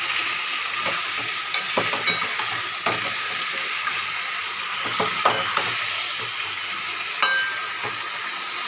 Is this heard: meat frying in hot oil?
yes